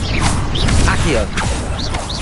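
The Accio summoning spell is cast in Hogwarts Legacy, with whooshing magical swishes, mechanical clanks and rising chime-like tones layered over busy game noise, along with short bursts of game dialogue.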